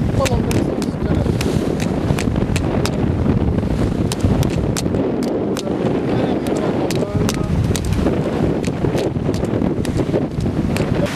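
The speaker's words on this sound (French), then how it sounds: "Il y a du vent" Steady, heavy wind roars across the microphone aboard a sailboat at sea, constant and loud for the whole stretch, with faint water wash beneath and scattered sharp pops of buffeting.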